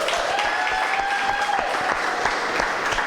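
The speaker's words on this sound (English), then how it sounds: "A round of applause for Sada." Audience at a Pan-Africanism panel applauding panelist Sada, sustained clapping with distinct individual claps near the front while a faint whistling tone carries over the first half.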